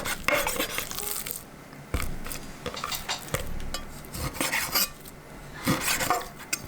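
Pork and kimchi being sliced into large chunks for kimchi stew, with a knife tapping and scraping on a board, irregular clicks and clatters close by with kitchen clatter and no talk.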